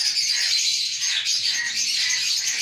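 Indian ringneck parrots of several colours kept as breeder pairs in a three-section breeding cage, giving a dense, continuous chorus of shrill high chirps and screeches, steady and loud with no voices.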